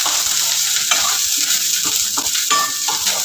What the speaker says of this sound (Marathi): बारीक चिरलेले गाजर, मटार, तेही घालून घ्यायचं। तेलामध्ये चांगलं परतून घेऊ।